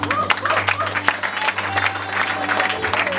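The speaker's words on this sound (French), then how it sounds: "On l'applaudit s'il vous plaît." A crowd applauding with dense, steady clapping throughout, over a low droning hum.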